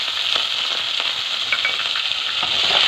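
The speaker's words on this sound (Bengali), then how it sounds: "পেঁয়াজটা একটু ভেজে নেব" Onions frying in hot oil with cumin seeds in a pan, a loud, continuous crackling sizzle with scattered pops and stirring, no voices.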